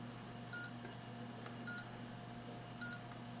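A Chinese power supply tester sounds an alarm, giving three short, sharp electronic beeps at an even interval of about one second, loud and clear over a faint steady background hum, with no talking.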